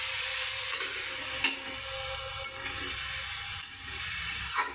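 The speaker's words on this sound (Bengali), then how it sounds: "তো এখন আমি এখানে যে রসুন, পেঁয়াজটাও দিয়ে দেবো। তো এটা এখন আমি ভেজে নেবো তেলে।" Garlic and onion fry in oil in a pan alongside dried chillies, a broad, even hiss of sizzling with a few brief stirring scrapes at intervals, steady and close, with no speech.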